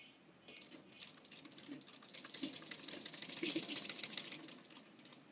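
Sewing machine stitching a short kameez sleeve to the body fabric, a quiet, fast steady rattle of needle strokes running continuously for several seconds.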